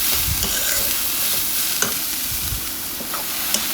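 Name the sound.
vegetables being stirred and roasted in a pan on medium flame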